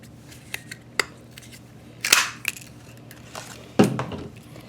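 A craft paper punch clicks through Flirty Flamingo cardstock, giving a few sharp, close snaps with light handling rustles between them, with no talking.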